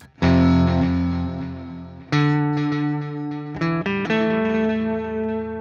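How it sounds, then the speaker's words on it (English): Guitar through the Neural DSP Archetype Petrucci plugin with a modulation effect, sustained chords ringing out with a slight wobbling shimmer, struck again a few times, loud and close without voices. "And some wobbliness on the modulation."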